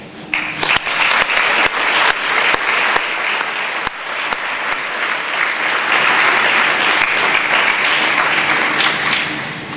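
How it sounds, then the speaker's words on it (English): At a Chapter House school speech day, an audience applauds to thank the staff: a few sharp early claps swell into full, loud, sustained clapping from a large crowd that holds steady to the end. "Can you please join me in a round of applause to thank them?"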